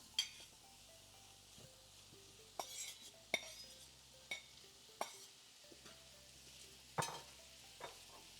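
Onions, tofu and potato sautéing in a skillet, with a soft steady sizzle and scattered sharp clinks and scrapes of a utensil against the pan, moderately close and fairly quiet.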